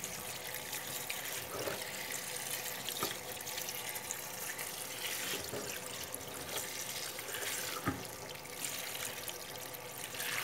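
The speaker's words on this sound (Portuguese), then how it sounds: "Uma água corrente." Herbs rinsed under running tap water, a quiet continuous trickle and splash from the faucet with occasional louder spatters as the leaves shift.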